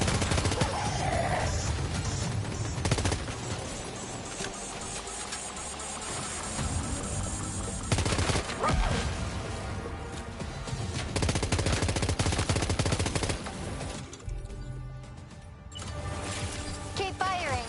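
Dense gunfire from a firefight in Death Stranding 2, loud bursts of automatic weapons and crashing impacts running continuously with game music and voices mixed underneath.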